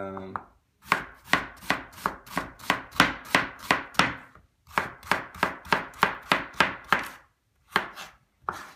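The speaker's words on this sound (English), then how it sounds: "this is an onion that I peeled, and I'm just gonna slice it down there" A knife slices through a peeled onion on a cutting board, giving about twenty crisp, evenly spaced chops in two runs with a brief pause between, close and clear with no talking.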